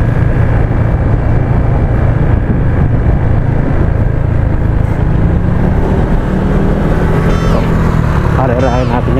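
Honda PCX 160 scooter riding uphill, its engine droning steadily and loudly up close with wind noise, as someone talks over it throughout.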